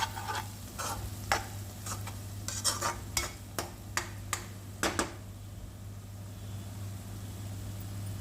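Soya granules and spinach fry in a home kitchen pan, with a steady soft sizzle broken by sharp clicks and taps of stirring in the first five seconds before the frying carries on alone.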